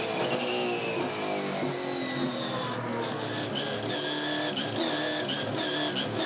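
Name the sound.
V8 Supercar on throttle, tires squealing searching for grip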